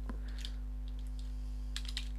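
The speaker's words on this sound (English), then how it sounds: "or start typing the name of the nominal code, and it will appear" Soft clicks come from a computer keyboard as a user enters accounting data, in a few scattered keystrokes and a brief cluster near the end, faint over a steady electrical hum.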